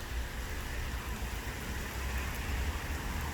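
Raindrops patter on grass and tree leaves in a continuous, fairly quiet wash of noise, with a faint low rumble underneath and nobody speaking.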